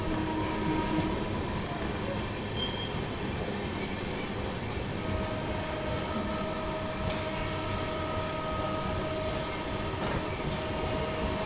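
Udyan Express train running at steady speed through Hadapsar station in Pune, heard from inside a first-class AC coach as a continuous rumble of wheels on rail with faint squeals and hums.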